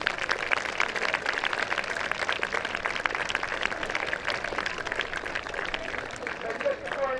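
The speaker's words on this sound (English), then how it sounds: "So a big round of applause for them as well, please." Crowd clapping at a school athletics sports day in thanks to the scorers, sustained applause across an open field, moderately loud and even, with voices mixed in.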